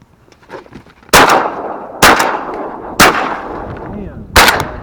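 Four sharp shotgun blasts fired at a duck during a public-land hunt, spaced about a second apart, each loud and close with a ringing outdoor tail fading between shots.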